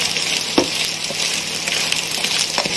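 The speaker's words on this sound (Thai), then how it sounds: "ทำการทอดนะครับให้กรอบนะครับ" Large green beetles deep-frying in hot oil until crispy, a steady close sizzle and hiss throughout with a few brief pops and crackles.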